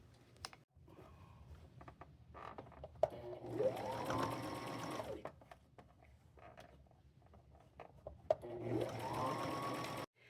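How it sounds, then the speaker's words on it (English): A sewing machine runs a stitch down the edge of a thrifted jacket being remade, motor whirring in two longer bursts with short pauses and handling clicks between, fairly close and with no talking. "So I'm fixing to go take it to my machine and run me a little stitch all the way down the edge of this."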